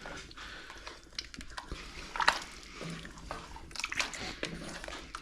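Thick chili con carne of chunky beef with no beans being stirred as masa harina is worked in, giving soft wet squelching and scraping with a couple of brief louder splashy clicks, fairly quiet.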